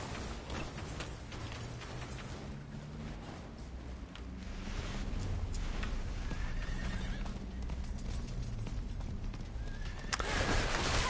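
A horse mount in the Diablo IV video game whinnies several times over continuous clip-clopping hooves. The galloping is loud and steady throughout, with the neighs rising above it.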